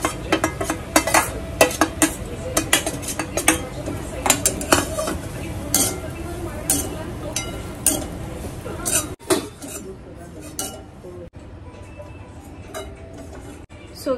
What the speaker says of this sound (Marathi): खोबरं भाजून घेतलंय घी मध्ये